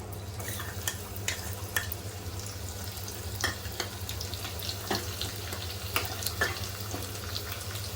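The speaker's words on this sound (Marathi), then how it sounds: "तेल गरम झालेलं आहे आपण लसूण फ्राय करूया याच्यामध्ये" Garlic frying in hot oil in a pan, a continuous crackling sizzle with frequent sharp pops spread evenly throughout, close up and alone without any voices.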